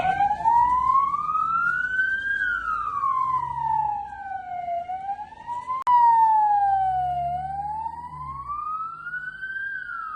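A fire truck siren wails up and down in long, slow sweeps during a hospital disaster drill, loud and steady, passing nearby with a brief click partway through.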